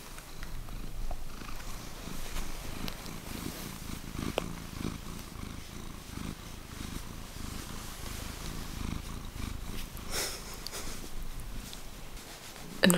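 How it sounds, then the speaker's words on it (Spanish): A cat purrs close to the microphone, a soft, continuous low rumble that holds steady for several seconds in a quiet indoor room. "Tengo a mi bichito aquí ronroneando,"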